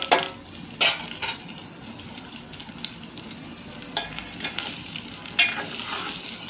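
Boiled, peeled potato pieces being gently stirred into a simmering curry in a pan, with a steady sizzle under occasional spoon scrapes and clinks against the pot, close and no talking.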